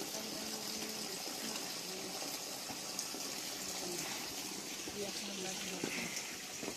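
Water runs steadily at Haruna Temple in Japan, a continuous rushing flow not yet frozen in the cold, with voices talking faintly over it.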